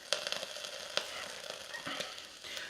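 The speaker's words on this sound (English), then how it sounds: "You might hear my soldering gun sizzling a little bit." Faint sizzling and crackling from a soldering gun while soldering connectors to an ESC, with sharp little pops scattered throughout, close by and steady, no voices.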